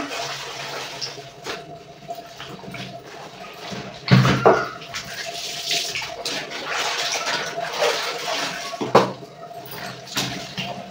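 Bedsheets and clothes being washed by hand with water at home: running, splashing water with sloshing bursts and a couple of louder gushes, a steady wet wash throughout.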